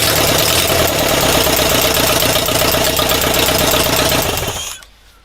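A freshly rebuilt air-cooled engine runs on its first start with a loud, steady, rattling idle that holds for several seconds, then cuts off abruptly into quiet.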